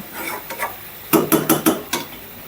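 Several sharp metallic scrapes and clanks of a spoon stirring chicken meat in a pan, close by, in a quick irregular burst over a faint background hiss.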